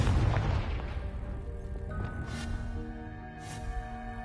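A Confringo spell explosion in Hogwarts Legacy, a loud booming burst at the start that decays into a ringing, tonal magical shimmer with a couple of soft whooshes, no voices.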